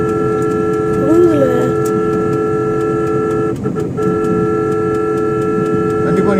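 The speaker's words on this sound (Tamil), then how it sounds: "ஹார்ன் அடிச்சுதான் போயிட்டு இருக்கேன்" A vehicle horn sounds repeatedly on a road while passing a lorry that is spilling gravel. Sustained tonal blasts sit over a steady traffic rumble, with short breaks and one rising, wavering tone early on.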